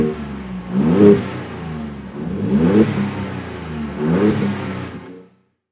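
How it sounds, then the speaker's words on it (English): A current-generation Ford Raptor pickup's V6 exhaust revs three times in a row, each blip rising and falling with a raspy, mid-pitched drone, close and loud with no talking. "the exhaust note of the new Raptor just doesn't belong there"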